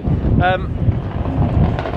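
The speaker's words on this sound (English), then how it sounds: "I don't know if you can hear this. It's very windy." Heavy wind buffets the microphone at an outdoor Japanese car show at Silverstone, with a continuous low rumble and gusty bursts, while voices are faintly audible underneath.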